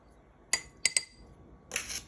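Ice cubes clink in a cup as instant coffee is added for an iced coffee, three sharp close glassy clinks followed by a brief rattle, with no talking.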